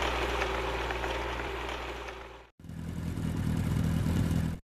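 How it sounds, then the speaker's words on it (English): A truck engine in a children's transport learning game runs at a steady, loud idle with a low rumble and clatter, cutting out briefly midway before resuming just as strongly. "Truck."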